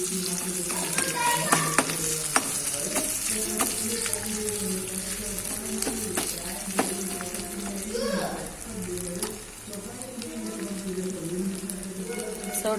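Garlic cloves sizzle in hot tempering oil for tomato chutney in a home kitchen, a steady low crackle with scattered pops and stirring clatter, fairly quiet, with a brief trickle of water midway.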